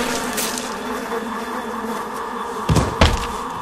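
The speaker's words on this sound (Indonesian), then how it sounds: "memasukkan kumpulan lebah itu ke kamar mandi" Swarm of bees in a bathroom in a horror film: a dense, steady insect buzz fills the scene, with two sharp cracking impacts like breaking glass near the end.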